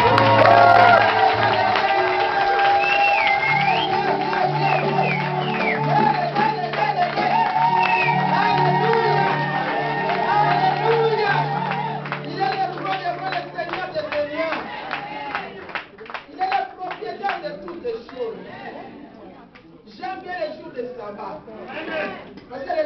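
A church congregation cheers and claps: loud crowd shouts and whoops come first, then a run of rhythmic clapping with mixed voices.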